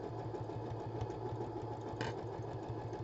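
A sewing machine stitching fabric, a steady fast mechanical whirring and rhythmic needle clatter at a fairly quiet level, running continuously with no talk.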